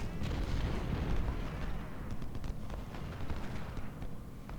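Civil War battle in the Ultimate General strategy game, with artillery and musket fire merging into a continuous dense rumble of booms and crackling shots, loud and steady throughout.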